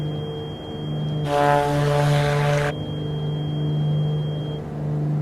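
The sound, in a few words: Black Square Grand Duke aircraft engine and propellers, Microsoft Flight Simulator video game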